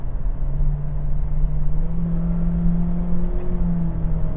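A 2025 Acura ADX engine revs steadily with a rising tone and brief dips in pitch as the paddle-shift upshifts come through, heard from inside the cabin as a continuous hum and rumble.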